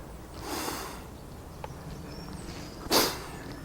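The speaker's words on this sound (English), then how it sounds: "excuse my sniffing, but it is bloody cold" A person sniffs twice in cold outdoor air, one soft drawn-out sniff early on and a sharper, louder one near the end, close to the mic with faint background hiss.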